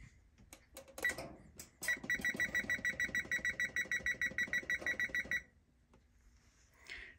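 Button presses on an oven timer beep, a few scattered chirps followed by a fast, regular run of bright electronic beeps for several seconds, then quiet.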